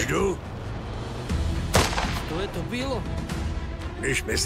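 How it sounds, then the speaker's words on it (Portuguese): An artillery shell explodes in the video game Last Train Home, a sharp blast near the middle with scattered booms around it, heard under someone talking in Portuguese. "Jogar uma bomba de artilharia ali."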